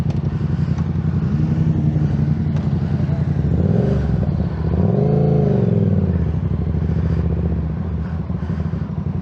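A Yamaha motorcycle from the MT-07, XSR700 or MT-09 range runs loud and close, its engine note rising and falling through quick throttle blips and acceleration as a rider talks over it.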